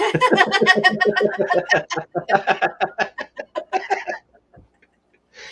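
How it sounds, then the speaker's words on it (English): A rapid series of squawky, chuckling clucks like an agitated chicken, loud and close, tapering off into silence near the end. "That sounds like a chicken, like a really messed up chicken."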